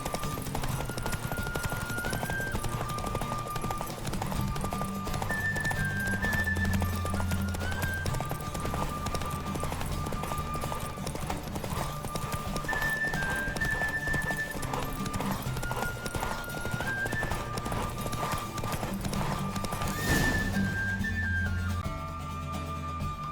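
Rapid, rhythmic hoofbeats of a galloping horse in a horse race in The Witcher 3: Wild Hunt run continuously under a melodic game music track, steady and close throughout.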